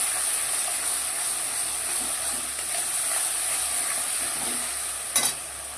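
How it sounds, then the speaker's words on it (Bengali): Spices being stirred into hot oil in a frying pan with bay leaf and dried chilli for a Bengali fish curry: a continuous soft sizzle and scraping with faint clinks and one sharp knock of the utensil near the end. "এবার আমি মশলাটা দিয়ে দেবো মশলাটা দিয়ে এবার ভালো করে একটু নাড়াবো"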